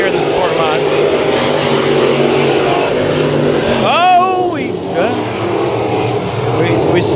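Sport mod race cars roar around Kings Speedway in Hanford during a heat race. The engines make a loud, continuous drone with rising and falling revs as cars pass, and a voice is briefly heard underneath.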